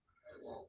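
A single short, quiet sneeze bursts out during an indoor web programming lecture, brief and muffled with no talk over it.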